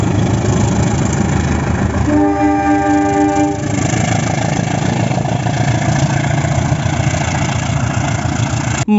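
A wooden toy CC201 locomotive plays train sounds: a steady, loud rumbling engine throughout, with a sustained horn blast in the middle lasting about two seconds.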